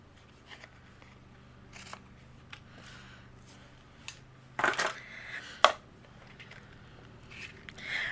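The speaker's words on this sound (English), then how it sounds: "Anything overhanging we'll just trim away." Scissors trim overhanging pink cardstock from a handmade card panel in a few soft, sparse snips, with a couple of sharper cuts near the middle. Nobody talks.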